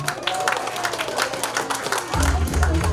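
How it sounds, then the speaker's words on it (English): Audience applause at an Instant Happiness event, a loud continuous clapping crowd with voices mixed in and a low rumble rising near the end. "Let's give a big round of applause, everybody"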